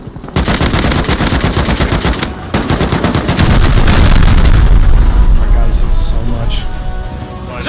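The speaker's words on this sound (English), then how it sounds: "That's shooting me." Rapid automatic gunfire from the survival game Rust rattles in dense bursts, loud and close, with a short pause before sustained shooting and booming impacts, under voice chat between players.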